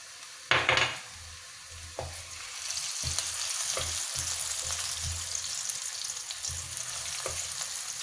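Chili hitting hot oil in a wok after garlic, for salted egg prawn: a sharp sizzle burst at the start, then steady frying hiss punctuated by several scraping, clanking stir strokes.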